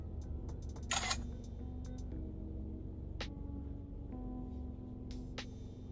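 A 70mai Dash Cam Omni 360° rotating dash cam fires a quick, crisp shutter sound when taking a photo, standing out briefly over a constant low background hum with a few soft clicks.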